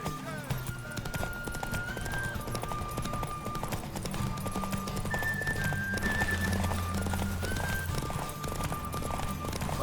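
Roach the horse gallops through The Witcher 3, a steady clip-clop of hooves running under a game music bed with occasional whinnies, loud and continuous throughout.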